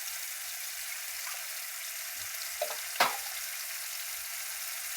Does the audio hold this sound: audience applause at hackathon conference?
no